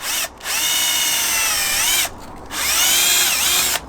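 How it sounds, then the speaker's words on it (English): A power drill boring a 6mm hole for a bolt while fitting a front splitter to an Audi TT Mk1, heard as two close, loud whining bursts separated by a short pause. "if you can drill a hole 6mm there, you'll see it's just enough to put a bolt on"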